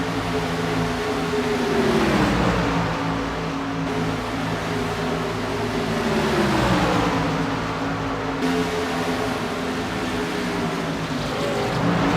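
A pack of race cars in a CMC Sportsman Series race drones along pit road, engine tones rising and falling in waves as they pass, loud and continuous with no speech.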